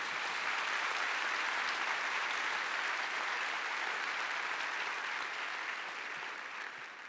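A church congregation applauding together, a dense, even wash of many hands that stays steady and then tapers slightly near the end, heard from a distance.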